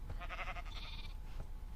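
A Minecraft donkey lets out a single braying, bleating call, a pulsing wavering cry followed by a brief trailing note, heard alone and fairly faint.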